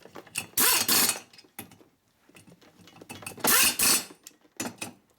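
Torque wrench ratcheting while tightening engine bolts on a Harley Shovelhead motor rebuild, heard as close, sharp bursts of clicks in several short runs with quiet gaps between.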